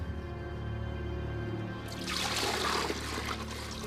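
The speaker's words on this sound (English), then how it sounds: "the water clock was refilled for the philosopher to defend himself" Water trickling and pouring as a water clock is refilled, a faint steady dribble that turns into a brighter, fuller pour halfway through over a soft sustained musical drone.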